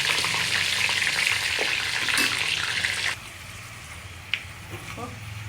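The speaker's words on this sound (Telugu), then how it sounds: "మనం నూనె కాగింది, పల్లీలు వేసుకోవాలి" Peanuts frying in hot oil with green chillies, a loud steady sizzle that suddenly drops to a quieter crackle partway through, with occasional stirring clinks.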